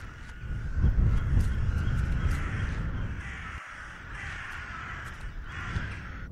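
Crows caw repeatedly in the pixel horror adventure game The Last Door, a series of rough calls at steady intervals over a low, continuous wind rumble.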